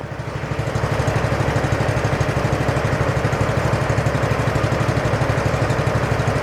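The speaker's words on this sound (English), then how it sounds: "I'm just going to go low revs" A small pump engine chugs steadily at low revs, a rhythmic, even putter close by that swells slightly at the start and then holds constant.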